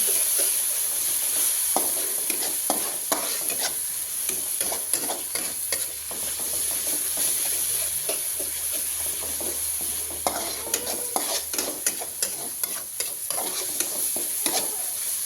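Spice paste sautéing and stirred in a hot pan, with a steady close sizzle and frequent scraping strokes of a utensil throughout, continuous and fairly loud with no voices.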